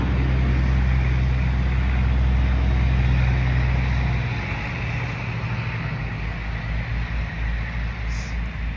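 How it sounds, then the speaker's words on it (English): A truck passes outdoors with a loud low engine rumble and road noise that dominates the first four seconds, then fades away and leaves a quieter roadside hum. "truck going by."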